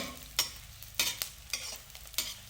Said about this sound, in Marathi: व्यवस्थित फुलला पाहिजे डिंक या पद्धतीनं